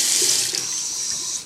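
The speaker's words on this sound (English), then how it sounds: "So wash down your arm like that." Tap water runs steadily into a sink while hair dye is washed off an arm, a close, continuous hiss with no break.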